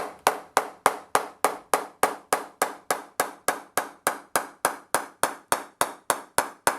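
Sharp wooden knocks from a ball or mallet tapping a Gray-Nicolls X181 cricket bat, repeated quickly and evenly around twenty-five times, each crisp and ringing briefly, close up with no talking.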